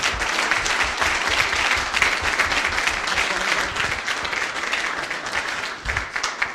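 An audience at a Nashville transit event breaks into sustained applause for the panelists, a dense, even wash of clapping from a crowd that holds steady for several seconds.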